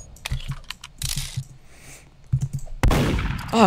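Gunshots fire in the Roblox game Murder Mystery 2, with sharp bursts mixed with close keyboard clicks and a couple of louder, noisier blasts.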